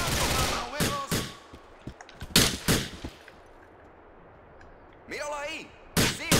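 Sharp bursts of gunfire crack out in Grand Theft Auto IV: loud single shots and short volleys break up long quiet gaps, and a wavering siren-like tone rises near the end.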